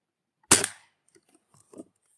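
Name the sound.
Crosman Boat Paddle air pistol shots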